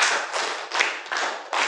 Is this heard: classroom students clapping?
yes